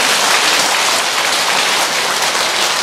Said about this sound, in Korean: 박수 한번 쳐야 되겠네요